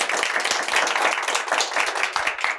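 A crowd applauding with dense, steady clapping that continues throughout, fairly loud and close.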